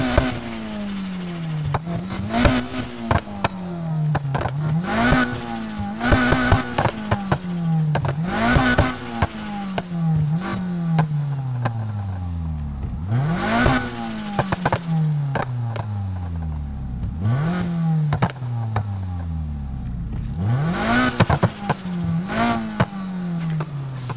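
Car exhaust in the Need for Speed Heat racing game revving repeatedly, a series of loud rising and falling engine sweeps with crackling pops between them, close and continuous with no talk.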